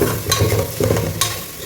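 Food sautéing in ghee in a pan gives a loud, close sizzle with a few sharp scraping stir strokes and a low background hum, with no talking.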